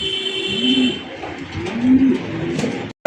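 Pigeons in a seller's stock of large jumbo birds coo with low, soft repeated calls over a steady background hum, fairly close, with no talk.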